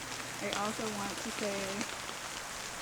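Steady rain pattering outdoors along Black River Road forms a constant wash beneath a person speaking up close.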